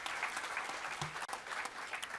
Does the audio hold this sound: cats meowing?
no